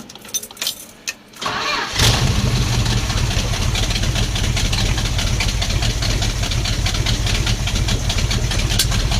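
A 1978 Dodge W-150 pickup engine cranks briefly, catches and settles into a loud, steady idle that runs close by for the rest of the clip.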